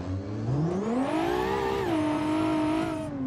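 A car in the Automation game accelerates uphill on nitrous during a top-speed sedan challenge, its engine note climbing steeply in a loud, smooth rising whine, then dropping slightly and holding a steady high drone.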